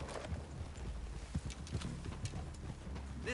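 Horse hooves clip-clopping through a clearing in Red Dead Redemption 2, a steady, moderately close walking rhythm under a low background rumble, with a faint whinny near the end.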